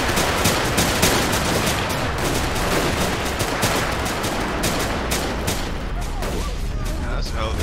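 Video game explosion with heavy gunfire, a dense, loud burst of blasts and crackling debris that continues in rapid noisy impacts, with a voice talking over it.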